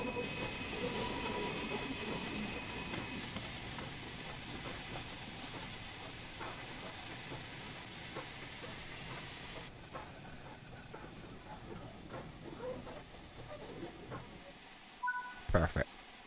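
Fowler 4F steam locomotive running in Train Sim World, a steady rumbling hiss with faint rhythmic clatter that quietens partway through, ending with a few short clanks.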